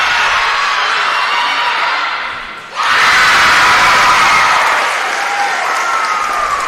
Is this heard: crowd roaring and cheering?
yes